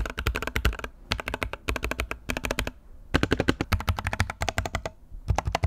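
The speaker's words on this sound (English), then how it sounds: "For the keys, I'm currently rocking the K65 Plus from Corsair with red switches." Fast bursts of typing on a Corsair K65 Plus mechanical keyboard with red switches, close and crisp keystroke clatter in short runs separated by brief pauses.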